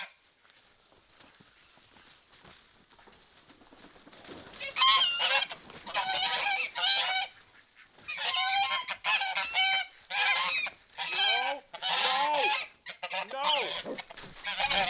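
A pair of guard geese honk loudly in a chicken yard, first quiet, then a burst of repeated harsh honks in uneven clusters, near and clear.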